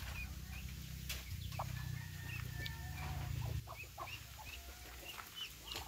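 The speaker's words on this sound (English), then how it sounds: "Here we have baby ducks." Baby ducks chirp and peep in a steady, overlapping chorus close by, with short high calls scattered over a low rumbling background.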